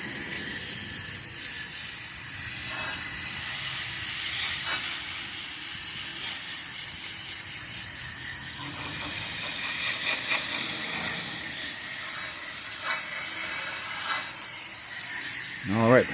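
A water hose sprays dirt off the coils of an AC condenser unit, making a continuous broad hiss that stays steady and close throughout, with small surges in spray near the end.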